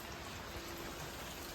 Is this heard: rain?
yes